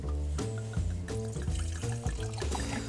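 Dry white wine poured from a bottle into a pan of vegan bolognese, a continuous glugging liquid pour with regular bubbling gulps, close and fairly loud, with no talk.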